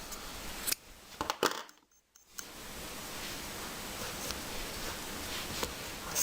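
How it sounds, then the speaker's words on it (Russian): Scissors snip through knitted jersey yarn while a backpack is being crocheted, a few quick close cuts and rustles against a quiet room background. "обрезаю нитку"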